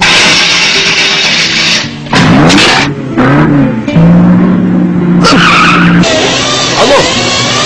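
A car driven wildly in a comedy scene revs hard and squeals its tires through repeated skids, loud and close, with engine pitch rising and falling between bursts.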